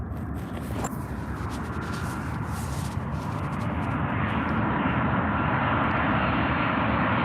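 A Ryanair jet airliner at Manchester Airport, heard as a steady, loud engine roar that holds constant throughout with no talking.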